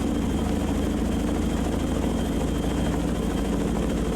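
Chinook helicopters in the naval game Sea Power produce a steady, dense rotor and engine drone, a continuous low throbbing hum that holds level throughout with no voices.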